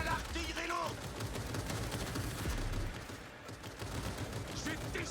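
Heavy gunfire in a video game comes as a dense, continuous rattle of shots and booming blasts, loud and close, with a voice speaking over the start and again near the end.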